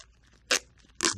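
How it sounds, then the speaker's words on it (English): Two short ripping bursts of combat rolled duct tape being torn from the roll while a chest wound dressing is taped down, each a sharp, close rasp separated by a brief quiet gap. "Let's use some combat rolled duct tape."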